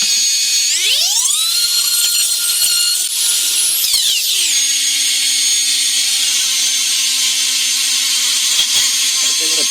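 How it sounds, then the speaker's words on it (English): A power tool works steadily on a carved wooden dagger from a black wolf dagger project, its whine rising in pitch, holding high, then dropping back to a lower steady drone, loud and continuous with no talk. "I'll try sanding."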